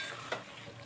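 Egg curry simmering in a pan, a quiet bubbling sizzle with a brief sharp tap near the start, close and faint.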